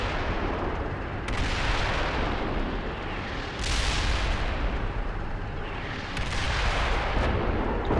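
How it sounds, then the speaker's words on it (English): Artillery shells land about a hundred meters away on a video-game battlefield, a continuous heavy rumble of blasts with a few sharper swells standing out over the roar. "I've got artillery landing 100 meters from me."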